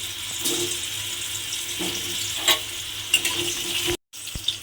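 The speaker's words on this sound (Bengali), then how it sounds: "প্রথমে কিন্তু আমাকে কুমড়োটা একটু লাল করে ভেজে নিতে হবে" Diced pumpkin fries in hot oil, giving a steady, close sizzle with faint stirring scrapes. The sizzle drops out briefly near the end, then resumes.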